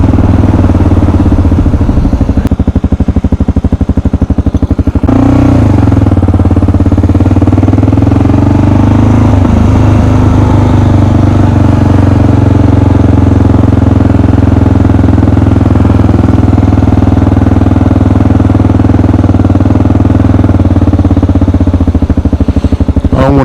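A Kawasaki KLR 650 motorcycle engine labors in low gear while climbing hills, a steady loud rumble with a brief surge midway and some wind buffeting, no voices over it.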